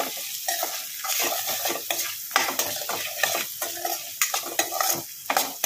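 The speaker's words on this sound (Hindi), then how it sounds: "हम इसे चलाएंगे।" Vermicelli frying in a pan with spices such as turmeric and mango powder, stirred briskly so repeated scraping strokes sound over a continuous sizzle, close and fairly loud.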